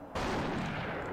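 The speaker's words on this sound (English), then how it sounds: "boom, headshot." A single loud gunshot fired in the video game The Thing, a sudden sharp blast that hangs on as a dense, roaring tail for about a second.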